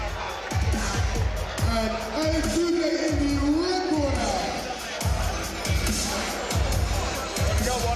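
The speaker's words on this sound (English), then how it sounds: "Please give a big round of applause to Conor McCormack in the blue corner" Crowd at a Muay Thai bout in the Roar Combat League cheering and applauding the fighters after a draw, a broad murmur of noise beneath an announcer's amplified voice naming the red corner.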